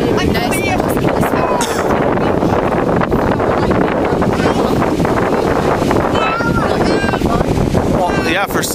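Strong wind buffets a microphone on a Florida beach in a loud, continuous roar, while people chat in the middle of it.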